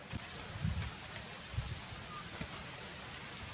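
Rain falling outdoors, a steady faint patter and hiss with a few louder nearby drops and thumps.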